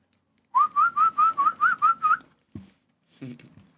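A person whistles a quick run of eight short, evenly spaced rising notes, close and clear, followed by a couple of brief soft noises.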